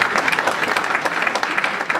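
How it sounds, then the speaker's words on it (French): Steady, dense applause from the crowd at a club's general assembly, loud and close, holding at an even level throughout with no talk. "je voudrais vraiment qu'on vous applaudisse et vous dire merci."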